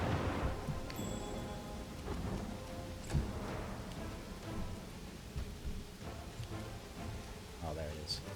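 Thunderstorm ambience from the fantasy video game Pathfinder: Wrath of the Righteous: steady rain with a sharp thunder crack near the three-second mark, running continuously beneath game music and voices.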